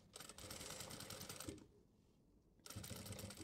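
A sewing machine stitches the band on a kurta in a fast, steady mechanical chatter, stops for about a second, then starts up again close by.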